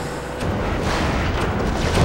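A vehicle crash in the Crush Hour video game, heard as a loud, rumbling burst of broadband impact noise that swells and holds for a couple of seconds, with no talking over it.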